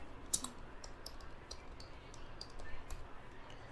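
Faint keystrokes and clicks on a computer keyboard come in an uneven run while a prompt is typed, quiet and close with no voice.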